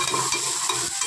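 Kolambi rassa masala frying in a pan, stirred and sautéed with a steady close sizzle and intermittent scraping strokes of the spoon, no voices over it.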